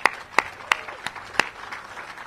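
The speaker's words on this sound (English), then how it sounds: "So let's give all our students one big round of applause." At a school ribbon-cutting for Banneker Academic High School, a crowd applauds the students: a handful of sharp, distinct claps stand out over softer, scattered clapping that trails off.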